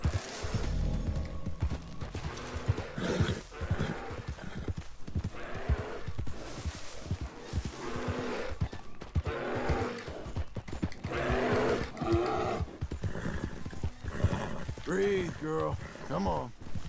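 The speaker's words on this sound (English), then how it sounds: "Te ha tirado el caballo" In the video game Red Dead Redemption II, a horse's hooves clatter and thud unevenly over a long stretch while voices talk excitedly almost throughout, with whinny-like cries breaking through near the end.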